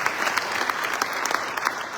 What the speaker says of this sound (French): C'est notre assistant, on peut l'applaudir